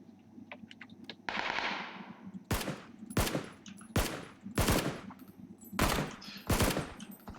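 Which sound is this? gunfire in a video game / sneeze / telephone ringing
gunfire in a video game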